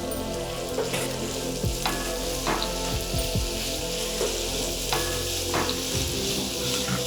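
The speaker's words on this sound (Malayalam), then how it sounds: "ഇഞ്ചിയും വെളുത്തുള്ളിയും പേസ്റ്റും കൂടെ വഴറ്റിയെടുക്കാം" Ginger garlic paste sautéing in a pan for chicken thoran, a continuous close crackling sizzle with occasional stirring scrapes, steady and moderately loud throughout.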